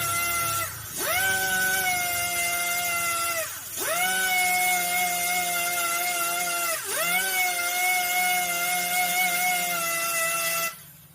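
An electric buffing machine grinds a bike tyre for puncture repair, its high harmonic whine running in three long bursts that each dip briefly as the tool bears down, fairly loud and close, with no talk.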